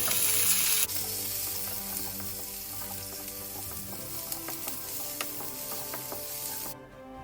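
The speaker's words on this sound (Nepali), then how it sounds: "प्याजलाई चाहिँ राम्रोसँग तेलमा फ्राई गरौँ।" Onions frying in oil with dried chilies for a soya chunk sausage curry, a continuous close sizzle with occasional stirring clicks and scrapes, no one speaking.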